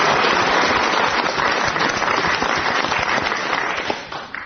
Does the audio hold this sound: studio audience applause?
yes